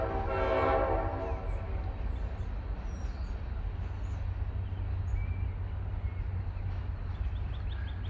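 A Norfolk & Western steam locomotive hauls an eastbound freight train toward a quarry, its horn sounding loudly at the start over a continuous heavy rumble of rolling cars and wheels passing close by.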